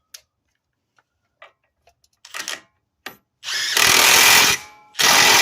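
A power tool snugs a bolt during a front right CV axle replacement on a 2008-2010 BMW 528xi. Light clicks and short ratcheting bursts come first, followed by two loud, sustained impact-gun runs close by.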